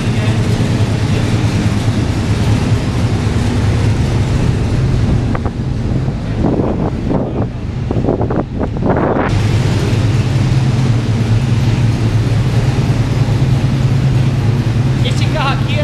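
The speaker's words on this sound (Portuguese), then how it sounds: "um pouquinho do barulho que eles estão esquentando os carros" NASCAR V8 race car engines warming up in the pits, a steady loud rumble that runs through the whole clip, with a short dip in the middle where some faint voices show through.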